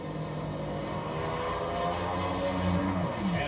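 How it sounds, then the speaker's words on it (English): An NHRA drag racing car at the Gatornationals roars down the strip, its engine a continuous, loud, dense drone heard from a distance that holds steady throughout without talk. "And Bradley, smoke pouring out of the exhaust pipes as he crosses the finish line, but he takes the win."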